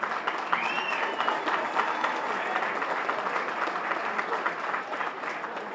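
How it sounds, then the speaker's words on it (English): An audience at the New York State Boxing Hall of Fame induction ceremony applauds. Dense, sustained clapping fills the room evenly from start to finish, fairly loud, with crowd murmur mixed in. "Let's give a big round of applause for that"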